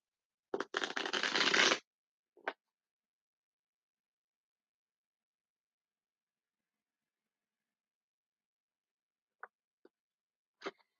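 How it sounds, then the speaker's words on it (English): A riffle of shuffling cards lasting about a second, followed by a few faint taps and clicks spread across otherwise silent moments. "I'll shuffle these about 2 more times"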